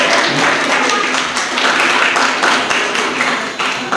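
A crowd applauds with dense, steady clapping that fills the whole stretch, loud and close, with a faint voice underneath, at an English-speaking competition.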